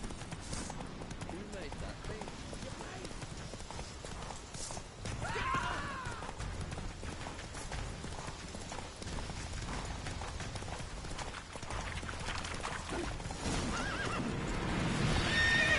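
Roach, Geralt's horse in The Witcher 3, gallops with steady hoofbeats and gives a whinny partway through, mixed with game music and ambience throughout.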